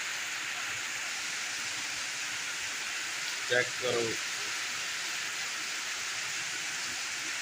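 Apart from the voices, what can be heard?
heavy torrential rain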